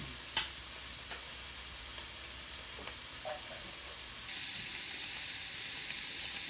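Meat searing in a pot of kick-off beans with diced tomatoes, a faint steady hiss with a few sharp clinks and stirring knocks, the sizzle growing slightly brighter toward the end.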